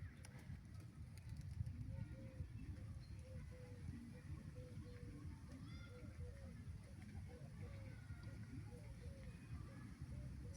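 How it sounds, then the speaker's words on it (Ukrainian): A pigeon coos softly and repeatedly in the background, faint beneath a steady low rumble and someone speaking nearby. "увага, голуб."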